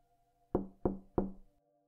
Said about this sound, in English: That's when we hear 3 sharp knocks from outside the hull.